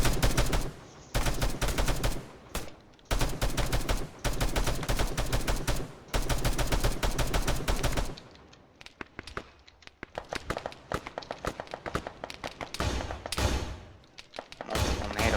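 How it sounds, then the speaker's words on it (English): A .50 caliber machine gun firing in the military video game Arma, long loud sustained bursts with short gaps between them, then more scattered, sharper gunshots and thuds toward the end. "the next real threat is this 50 cal. firing across"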